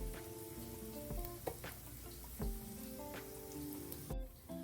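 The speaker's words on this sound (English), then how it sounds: "we're going to saute this for about 2 minutes until the garlic starts to brown" Garlic sautéing in a pan for egg drop soup, giving a soft continuous sizzle with a few light utensil taps, fairly quiet and steady with no voices.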